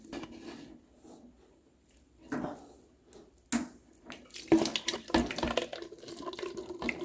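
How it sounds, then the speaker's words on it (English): Water runs from the drain plug of an Avalon bottom loading water cooler, model A4BLWTRCLR, as the reservoirs empty, beginning faint and becoming a louder, steady splashing flow in the second half. "And when we pull this little red plug, water's going to come out."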